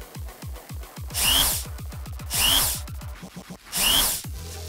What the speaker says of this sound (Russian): сверлим отверстие